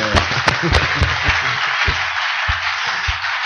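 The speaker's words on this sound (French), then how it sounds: "Applaudissons fort le Seigneur." Clapping from a church congregation, a steady dense wash of applause with a few sharp, close individual claps standing out, continuous for the whole stretch.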